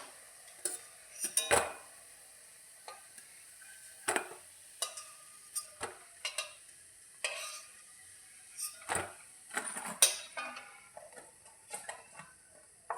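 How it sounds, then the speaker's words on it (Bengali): Crunchy fried bora fritters are handled in a kitchen after frying on high flame, giving sharp, scattered clicks and crisp rattles against a utensil, close and intermittent over a quiet background. "এটা আওয়াজে বুঝতে পারছো কতটা ক্রাঞ্চি হয়েছে বড়াগুলো।"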